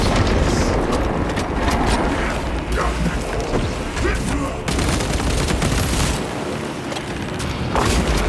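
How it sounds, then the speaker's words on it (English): Rapid bursts of gunfire and booming blasts in Warhammer 40k: Space Marine 2 fill the clip, loud and continuous, with heavy low rumble throughout. "Light their tunnels ablaze with"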